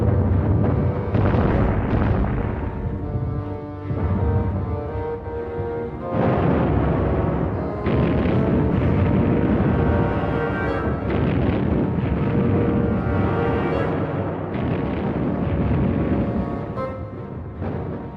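Heavy World War I artillery bombardment on the Western Front makes a loud, continuous barrage of deep booms and overlapping blasts that rumble on without pause.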